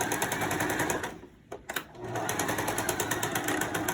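A sewing machine stitches across fabric in a fast, steady chatter close by, pauses briefly, then runs again as it goes back over the seam.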